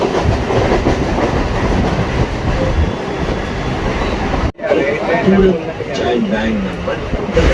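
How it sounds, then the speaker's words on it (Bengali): A train rumbles and clatters steadily on the tracks while pulling into Barrackpore station, people talking over it, with faint wheel squeals toward the end. "ট্রেনটা ঢুকছে"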